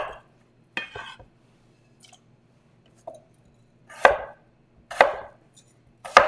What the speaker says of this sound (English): So just cut them into cubes and then put them right away into the pot